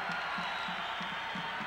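Basketball arena crowd cheering during an Indiana at Iowa State college game in 1990, a steady, dense roar of many voices with whoops, heard from a distance and sustained throughout.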